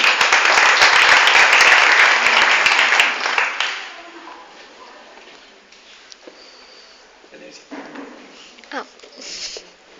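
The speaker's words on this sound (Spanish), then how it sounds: "Fuerte el aplauso para ustedes" Applause from a university welcome audience, dense and loud for about three seconds, then cutting off into a quieter room with scattered faint sounds.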